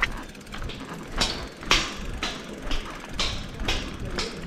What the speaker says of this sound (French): forcément je fais du bruit avec mes cales métalliques